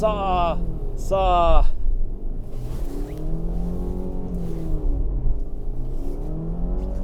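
A 2022 Subaru Forester Wilderness engine drones and revs while the car struggles in deep snow, a loud steady rumble with a rising and falling pitch, and a voice briefly at the start.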